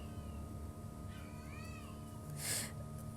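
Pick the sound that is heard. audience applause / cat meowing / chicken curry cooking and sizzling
cat meowing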